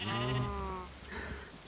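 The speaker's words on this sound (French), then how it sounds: "il y a un bébé mouton qui vient d'apparaître" A sheep in the Minecraft video game gives a short wavering bleat, clear and alone, followed by quieter game ambience.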